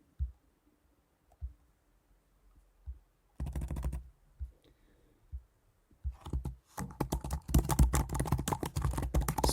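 Typing code on a computer keyboard, a few isolated key taps at first, then two bursts of rapid close clicking, the second longer and louder, with no talk.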